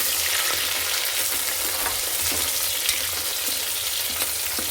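Sliced onions and green chillies fry in hot oil in a pan, a loud dense crackling sizzle running throughout with a few soft stirring scrapes, close up, with no one talking.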